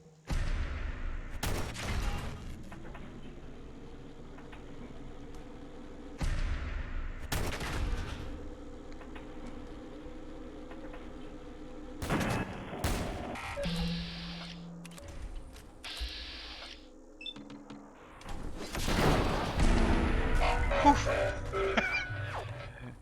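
Gunfire in the video game Fallout 4, several separate loud bursts of shots and volleys spaced out across quiet stretches with a low humming background.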